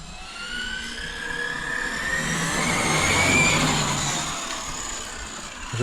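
An electric RC Porsche model car on an 8S setup accelerates progressively over gravelly ground, its motor whine climbing steadily in pitch and growing louder, then easing off, with no talking.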